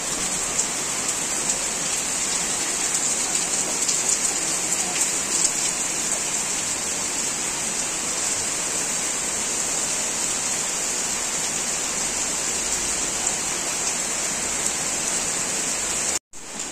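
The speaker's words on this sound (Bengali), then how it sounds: "যেহেতু বাইরে অঝোর ধারায় বৃষ্টি নামছে" Heavy rain pours down steadily outside, a dense, continuous hiss of drops on surfaces that stays loud and even throughout before cutting off abruptly at the very end.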